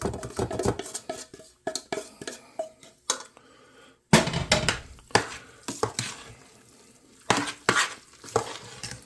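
A spoon scrapes and clacks in a bowl while sautéed cabbage and onions are mixed into mashed potatoes for Irish colcannon, in close, irregular bursts with short quiet gaps.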